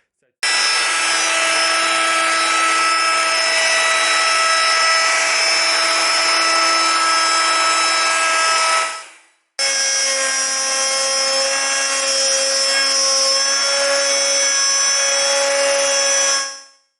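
Power router or saw cutting grooves into MDF for a laminate worktop, a loud steady whine in two long passes of about nine and seven seconds, close by with no talking.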